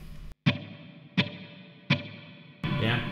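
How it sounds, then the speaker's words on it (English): Three separate guitar notes through a Laney IRT-X cabinet with slight reverb are struck in turn, each ringing out and fading with a slight reverberant tail, before a fuller strummed sound enters at the end. "just a little bit of reverb on there"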